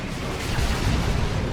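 A Whirlwind artillery barrage in the strategy game Dawn of War 2: dense, continuous low rumbling and booming, loud and steady throughout.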